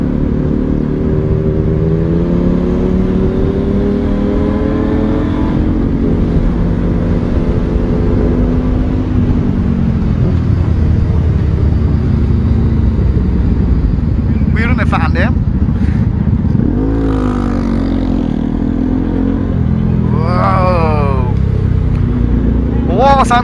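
Motorcycle engine with a relocated, modified exhaust while riding in Buca, İzmir, a steady close drone with rising and falling revs, heard under near-constant conversation between riders.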